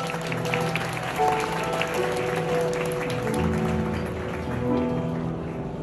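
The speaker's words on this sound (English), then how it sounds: "let's hear a round of applause" A crowd claps loudly and continuously, a dense rain-like patter of hands with a few voices and tones rising beneath it.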